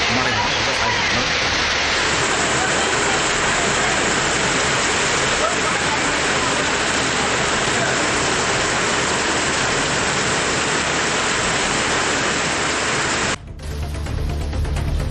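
Heavy rain pours down at night in Chennai, a dense, loud, unbroken roar of downpour that continues steadily before cutting off abruptly near the end.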